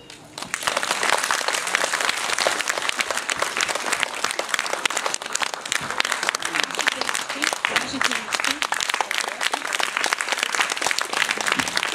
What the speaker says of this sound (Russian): Ваши бурные аплодисменты этим замечательным, чудесным, потрясающим выпускникам